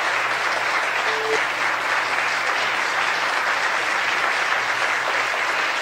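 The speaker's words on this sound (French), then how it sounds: "Ballon-ti applaudissement pour moi." Sustained applause from a congregation at a Wednesday prayer gathering, a dense, even wash of clapping that holds steady at a constant level throughout, with no distinct voices rising above it.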